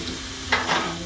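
Pepper steak with peppers and onions sizzling in a pan, a steady low frying hiss with two brief louder bursts of crackle midway, close and alone without talk.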